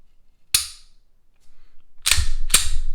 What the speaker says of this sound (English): This is the trigger pull.